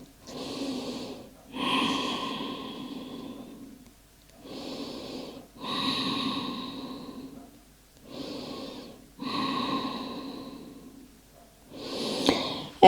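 Deep breathing while resting in yoga child's pose: four slow, close audible breath cycles, each a long airy inhale and exhale separated by short pauses, with no talk.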